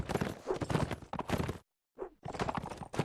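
A horse in a video game match clip-clops in quick hoofbeats, loud and close, that break off for a brief silence and then start again.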